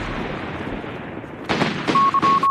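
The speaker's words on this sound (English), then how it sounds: "Heavy machine gun has been deployed for you." Heavy machine gun fire in the strategy game Company of Heroes 3 crackles in several short bursts over steady battlefield rumble, loud and close, with a thin tonal whine running beneath.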